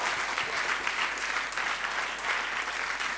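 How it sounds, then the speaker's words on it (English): Dense, steady audience applause fills an evening stage show, a continuous wash of many hands clapping at even loudness throughout, with no voices standing out. "one more round of applause for the amazing Ruben Becks"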